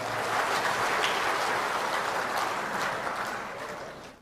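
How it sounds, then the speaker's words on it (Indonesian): Crowd applause at a national ministry working meeting greeting the Papua delegation, a dense, even patter of many hands that holds steady and then thins out at the close. "tepuk tangan untuk Papua juga"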